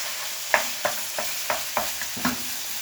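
Onion sautéing in olive oil for lasagne, stirred with a utensil: six or seven sharp knocks against the pan at an even pace, each with a short scrape, over a soft background sizzle, close up and with no talking.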